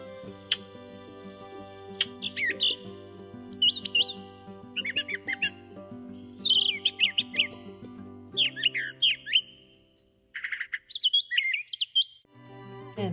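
Bright, varied bird chirps and warbling phrases in irregular bursts over a sustained tonal background, with a short quiet gap near the end.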